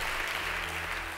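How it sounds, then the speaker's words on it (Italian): Steady applause from an audience fills a brief moment at the UN SDG Action Awards ceremony, continuous and even with no voices on top. "Applaudiamoli tutti."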